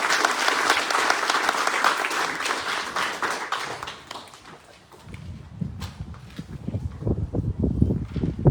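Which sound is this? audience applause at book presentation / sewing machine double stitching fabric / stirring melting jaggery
audience applause at book presentation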